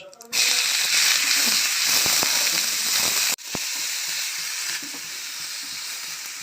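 Chopped medium onion frying in hot oil with reddened cumin seeds gives a loud, steady broadband sizzle that starts abruptly, drops briefly partway, then continues slightly softer with a few stirring clicks and faint background voice.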